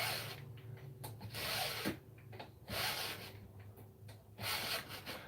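A blade being sharpened with a hand file, rasping strokes in a steady back-and-forth rhythm of about five passes, close and fairly loud, no talk.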